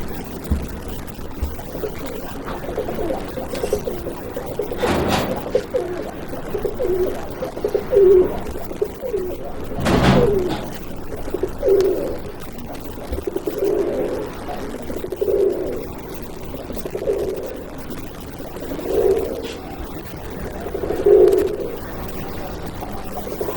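A Mili breed pigeon coos in a series of soft, rounded, evenly spaced calls, close and fairly loud, with a couple of sharp knocks in between and no talk.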